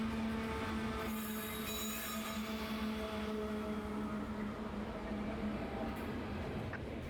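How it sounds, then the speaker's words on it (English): CSX potash freight K870 rolls along a bypass track near Tampa, Florida, a steady, fairly faint rumble of cars with a sustained high wheel squeal running through it. "As K870 rolls down the bypass track, it's crazy to think that this is the first ever potash train to reach Tampa, Florida."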